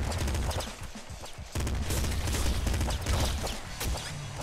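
Rapid assault rifle gunfire in the game Nuclear Throne, loud dense bursts of shots with booming impacts running nearly continuously, close and harsh.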